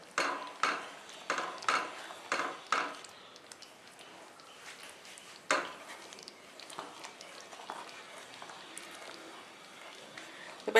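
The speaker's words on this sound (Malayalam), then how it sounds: "ഇനി ഇതൊരു 5 മിനിറ്റ് നേരത്തേക്ക് ഇതിങ്ങനെ ഇളക്കിക്കൊണ്ടേ ഇരിക്കിയത്." A pot of sweet jaggery payasam being stirred on the stove, a spoon scraping and knocking against the pot in a quick series of clinks early on, then softer intermittent stirring sounds, close up.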